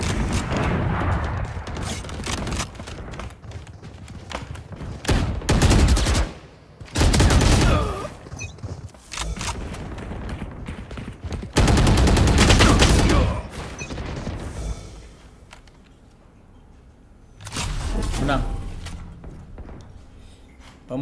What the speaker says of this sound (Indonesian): Dari belakang nembakin gua nih